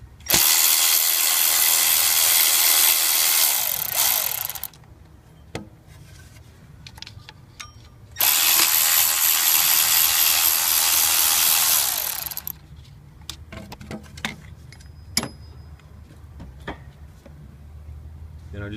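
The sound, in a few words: ratchet loosening 8mm bolts on Ford 7.3 Powerstroke diesel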